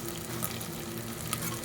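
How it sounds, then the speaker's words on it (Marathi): Chicken pieces sauté in a hot pan for a spicy home-style dish, giving a steady, close sizzle and crackle with no pauses and no talk. "मस्त पैकी परतून घेऊया आता"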